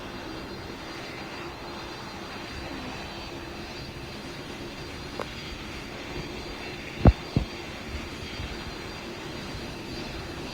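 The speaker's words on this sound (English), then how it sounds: "Delta Flight 8765, taxiing into Bay 5." An Airbus A330 airliner taxiing into a bay, heard as a steady, fairly faint engine drone with a few brief thumps partway through.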